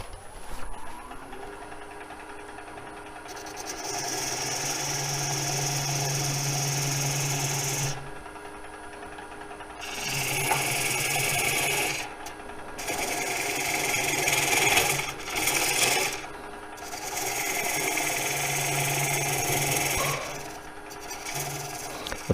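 Wood lathe with a parting tool cutting into a rainbow poplar bowl blank, giving repeated rasping, scraping bursts over a steady motor hum, several cuts separated by short pauses, close and loud.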